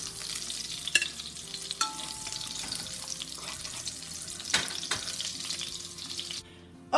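Drippings from browned smoked sausage sizzle steadily in a pot as the sausage is stirred and lifted out, with scraping clinks and a few sharper knocks before the sizzle cuts off near the end.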